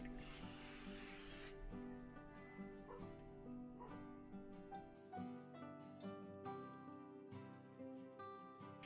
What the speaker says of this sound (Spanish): también le voy a poner un poquito de aceite en spray